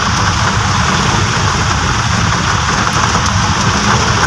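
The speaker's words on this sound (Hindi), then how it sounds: "बहुत तेज़ बारिश हो गई है, माशाल्लाह डेरा गाजी खान में" Heavy rain pours steadily in Dera Ghazi Khan, a dense, unbroken hiss of downpour close by with no voices.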